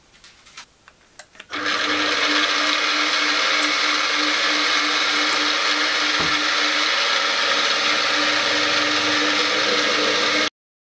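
A power drill pre-drills an 8.5 mm hole for tapping an M10 thread. After a few faint knocks, a loud, steady whirring drone runs unbroken for about nine seconds and then cuts off abruptly.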